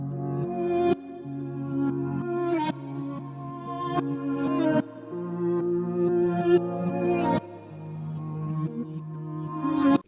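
An Afrobeats-style guitar sample drenched in Chima reverb inside FL Studio loops a plucked melodic phrase over sustained lower notes, bright picked attacks repeating every couple of seconds with a washy, ringing tail, with no voices.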